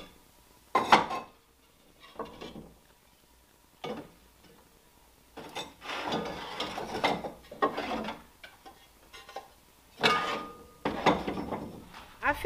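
Aged terracotta pots are handled and set down in scattered bursts of clinks, knocks and scrapes, separated by short quiet gaps.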